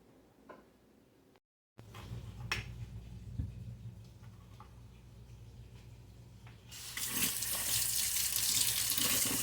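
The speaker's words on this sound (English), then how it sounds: "I'm getting ready to wash my jars, y'all." Tap water running into a kitchen sink for washing glass canning jars, starting as a low trickle with a few light clinks, then swelling into a steady, louder gush for the last few seconds; no talking.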